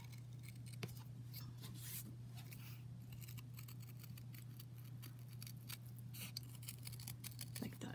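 Scissors snip through leather for a model horse saddle in quick, repeated close-up cuts over a constant low hum, with no talking.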